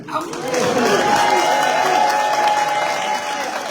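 Applause from an audience at a French-language political gathering about the Comoros, a dense, steady wash of clapping that holds loud throughout, with crowd noise and voices mixed in.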